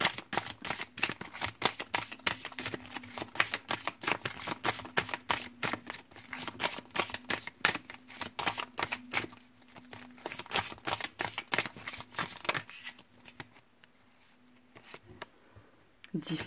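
Oracle cards are shuffled for a reading with a rapid, continuous run of crisp riffling card flicks, close and steady throughout, while a faint voice hums low in the background.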